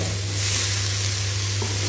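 Large paneer cubes stirred lightly through a pan of Bengali basanti pulao, giving a steady, close sizzle with soft scraping and no talking.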